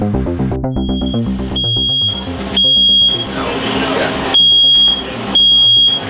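An apartment building alarm system set off by a faulty washing machine, loud high-pitched electronic beeps repeating in bursts over a rumbling background and talk.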